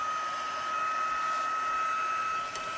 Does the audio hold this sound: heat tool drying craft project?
yes